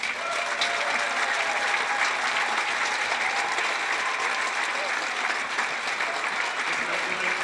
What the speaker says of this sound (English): Can you please help me recognize these young men with a round of applause?